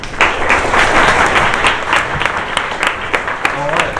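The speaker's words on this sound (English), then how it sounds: "So a round of applause" Audience applause at the Hack Manchester Junior show and tell, a steady roomful of clapping hands that holds loud and even for several seconds, with a few voices mixed in.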